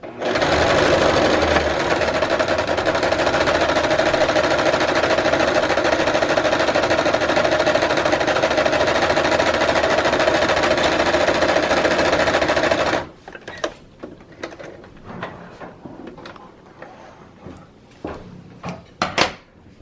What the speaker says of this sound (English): we're going to sew forward a little bit and then use the back button to sew back to secure that end of the thread